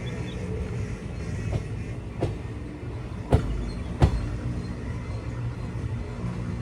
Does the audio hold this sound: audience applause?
no